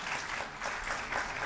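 An audience claps steadily at a venture business award ceremony, a brief burst of dense crowd applause without talk.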